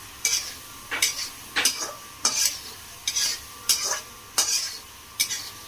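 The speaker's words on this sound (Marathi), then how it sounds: "आता पनीर ऍड करून घेऊया आपण मसाल्यामध्ये आपण मिक्स करून घेऊ" Paneer gets stirred into masala in a pan for matar paneer, with about eight evenly spaced scraping strokes of a spoon over a low background sizzle.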